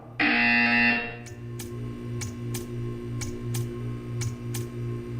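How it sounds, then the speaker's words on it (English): A buzzer in the Portal 2 video game blares loudly for about a second, a steady harsh electronic tone, then gives way to a series of short sharp ticks at a regular pace over a low humming background. "You will hear a buzzer."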